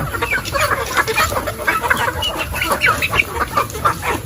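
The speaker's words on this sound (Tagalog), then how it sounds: "Tingnan ko kung makakuha ko ng isang hen." A Darag hen clucks and squawks in agitated bursts while being handled. The calls are close and fairly loud, with rustling and handling noise mixed in and no clear talk.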